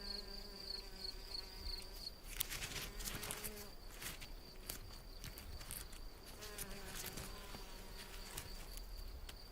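A red-tailed mason bee (Osmia bicolor) buzzes close by with a steady, droning hum, while faint insect chirping and outdoor rustling continue in the background.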